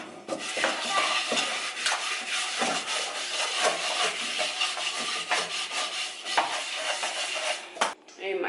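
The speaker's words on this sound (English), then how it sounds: "May I wash out the frying pan to make the fritters" A frying pan is washed in a sink: dishes clatter and scrape with steady rubbing and scrubbing against the metal pan, close and continuous, with water running and no talking.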